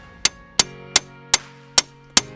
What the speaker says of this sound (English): I'm hammering it until the knuckle pops out